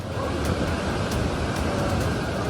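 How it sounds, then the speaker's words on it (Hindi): Flood waves of the Tawi river in Jammu roar continuously, a dense, loud rushing surge with no pauses, thick with low rumble and broad hiss. "हाहाकार मचाती लहरें।"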